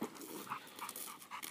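A half Catahoula, half pit bull dog panting softly in quick, even breaths, close but faint, with no talking.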